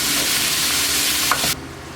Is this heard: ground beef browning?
yes